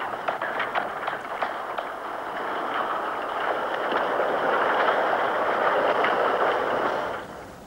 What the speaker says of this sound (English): The train, with its specially adapted rail cars, carries 16 strings of 400 metres each.